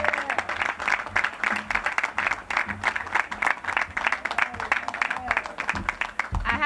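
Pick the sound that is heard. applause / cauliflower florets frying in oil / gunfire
applause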